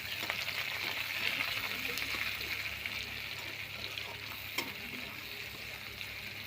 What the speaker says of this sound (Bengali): জিরে দিলাম, পেঁয়াজ কুচনোগুলো দিয়ে দিলাম